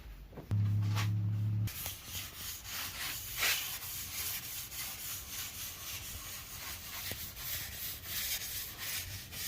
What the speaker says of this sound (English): I gave it a good spraying coat